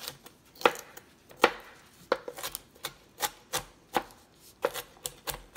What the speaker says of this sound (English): dice up the jalapeno.